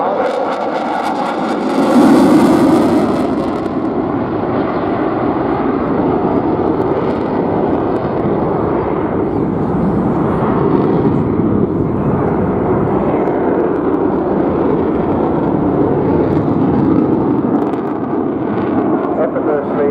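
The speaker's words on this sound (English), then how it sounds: "Effortlessly cruising around in this jet" A delta wing jet flying at the Bournemouth airshow, a broad, continuous roaring engine rumble that swells early and holds steady, loud and distant, with a voice talking over it throughout.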